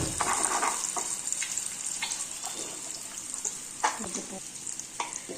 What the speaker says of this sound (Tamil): பாரு, ஃபிஷ் ஃப்ரை ரெடி ஆகிட்டு இருக்கு